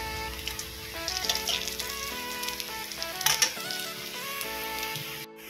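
Lentil vadas fry in hot oil, a close, soft sizzle and bubbling with clinks and mechanical clatter from the kitchen, fairly quiet and without speech.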